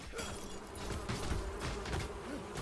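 Bees buzz in a video game, a soft wavering drone with faint pitch sweeps that keeps up steadily throughout at low volume.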